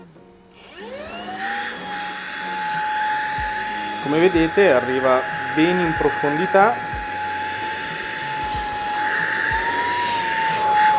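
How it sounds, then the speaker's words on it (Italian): A Melchioni Faster cordless vacuum cleaner whines steadily as it sucks into sofa crevices, a loud close motor tone with a pitch sweep at startup, while someone speaks Italian over it in short bursts. "Sentite la potenza di aspirazione, perché è veramente potente ed è in modalità normale."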